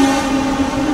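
A train passes close by, giving a loud steady rumble and drone with a sustained tonal hum, filling the whole short moment without any voices.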